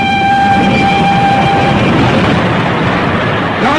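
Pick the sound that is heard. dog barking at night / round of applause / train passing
train passing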